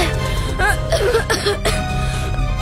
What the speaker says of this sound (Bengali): কাশিটা খুব জোর বেড়েছে